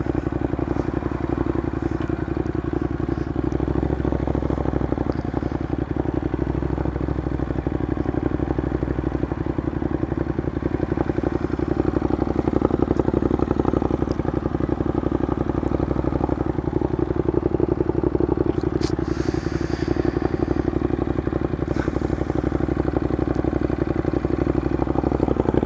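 A 2015 Ducati Monster 821 motorcycle engine runs steadily on the road, a loud continuous mid-pitched drone with mild throttle variation and wind rush throughout, no talk.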